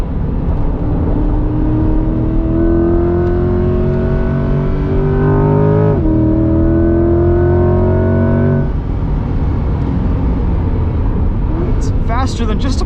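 A 2021 Chevrolet C8 Corvette Z51 on a track pulls hard through the gears, its engine climbing in pitch, dropping at a quick shift, then rising again, loud and close from inside the car.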